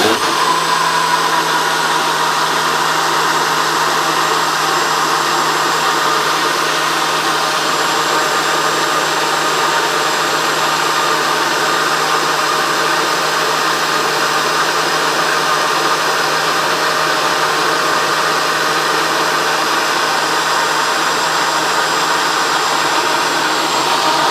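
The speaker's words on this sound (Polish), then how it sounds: "Ten blenderek jest naprawdę fajny, ponieważ mały, poręczny. Super działa." A small handheld blender whirs steadily and loudly, one continuous high-pitched motor drone with no pauses or change in speed, heard alone without talk.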